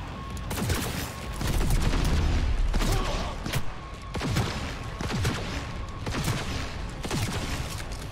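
Dense video game gunfire in Cyberpunk 2077, a sustained barrage of shots and impacts with repeated bursts at a steady loud level and almost no talking.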